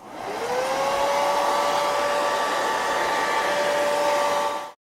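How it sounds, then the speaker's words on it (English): A hair dryer runs steadily at close range, heating the edges of a vinyl skin on an iPhone 6, its whine holding level for about four and a half seconds before it cuts off abruptly. "Heat the perimeter of the device with your hairdryer"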